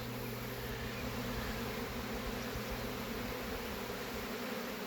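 Honeybees swarming outdoors after pouring out of the hive, a thick unbroken hum of countless wings that holds steady and close throughout, with no voices.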